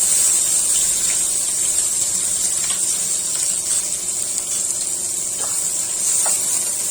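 Finely chopped onions frying in hot oil with whole garam masala spices over a medium gas flame, giving a loud, steady, continuous sizzle with no pauses.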